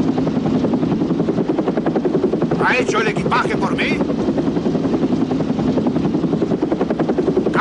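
A helicopter rotor runs steadily and loudly throughout with a dense, pulsing whir, while someone speaks over it.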